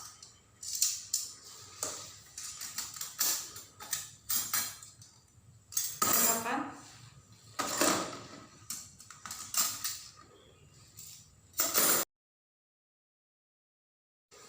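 Metal forceps and instruments are handled, producing a string of close, sharp metallic clinks, scrapes and clatters in uneven bursts for about twelve seconds before falling silent, with no talk over them.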